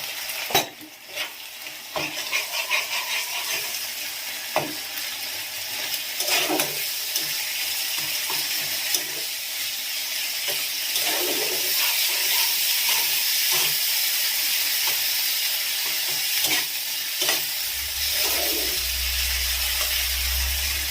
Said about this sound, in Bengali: এই মশলাটা কষানো হয়ে গেছে